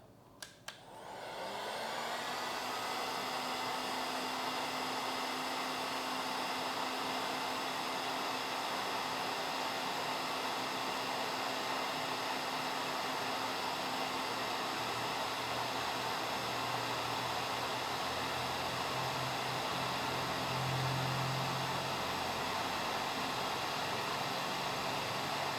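Yasuka YHG-O3 heat gun at its highest temperature and fastest fan speed gives a steady, loud airy whoosh with a constant motor whine, starting after a couple of brief clicks and running continuously.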